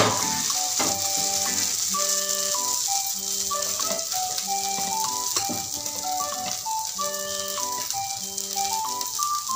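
Food sizzles steadily in a hot pan after being flipped, with ghee and butter added on top, a continuous frying hiss with no talk, under loud background music with steady tones.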